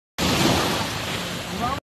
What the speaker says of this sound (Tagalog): Ang bongga ng alon dyan.